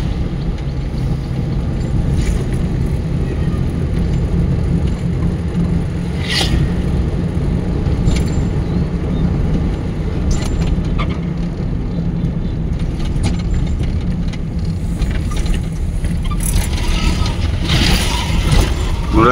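A car cruises along the Chandpur-Comilla highway, a steady low road rumble and engine hum from inside the cabin, with scattered clicks and faint talk.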